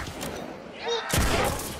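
Gunshot from a weapon in a zombie video game, one loud burst near the end of a short moment, with game effects and voices around it.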